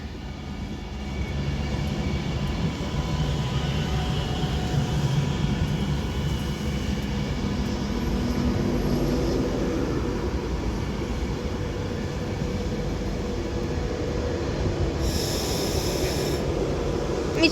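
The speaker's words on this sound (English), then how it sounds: "as this 390 Pendolino now arrives into Crewe with the 1413 Avanti West Coast service to Manchester Piccadilly from London Euston" An Avanti West Coast Class 390 Pendolino arriving into Crewe on the West Coast Main Line, a steady, loud rumble and hum of the train rolling in, sustained throughout with a brief hiss near the end.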